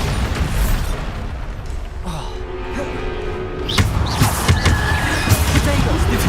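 In Hogwarts Legacy, a Bombarda explosion spell goes off as a loud blast that bursts out midway, followed by crackling, popping debris and rumble under a busy battle background.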